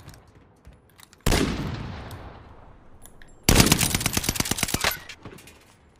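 Gunfire from the video game Call of Duty Warzone: a single loud shot with a long decaying tail, then a rapid automatic burst of many close, sharp shots lasting over a second, with faint quieter shots around it.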